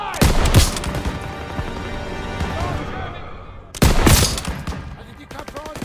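Gunfire in Call of Duty WWII, loud dense bursts of rifle and machine-gun shots with booming impacts, two heavy volleys separated by sustained battle noise, under shouted voices.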